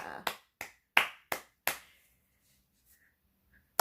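Several claps from a television episode audience clapping along, about five sharp, evenly spaced hand claps, then a pause and one final clap, fairly close and clear with no talking over them.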